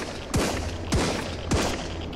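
Three sharp gunshots at a steady rhythm, roughly half a second apart, ring out loud and close in the survival game Sunkenland, each blast trailing a short rumble.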